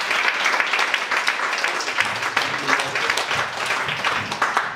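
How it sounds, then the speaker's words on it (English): A lecture audience gives sustained, even applause to welcome a speaker before a talk on Tel Aviv's International Style architecture; dense clapping continues steadily throughout with no speech. "So please give a warm round of applause to Joel."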